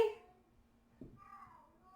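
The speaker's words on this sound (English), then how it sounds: "You guys are finally hearing her gurgle meows." A quiet, close cat gives a short trilling, gurgly meow after a brief sound at the start, in an otherwise hushed room.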